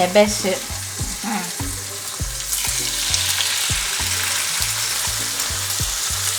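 Lamb leg steak sizzles steadily in a small hot frying pan, a loud continuous frying hiss with light scraping and stirring taps throughout.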